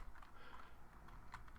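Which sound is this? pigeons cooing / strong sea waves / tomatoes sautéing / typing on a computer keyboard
typing on a computer keyboard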